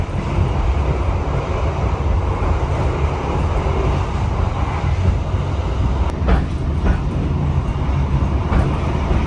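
Interior of a Majapahit economy-class passenger train running at night along a coastal line, a loud continuous rumble of wheels and carriage with rhythmic clickety-clack, a few sharper knocks, no talk.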